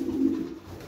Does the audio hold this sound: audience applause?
no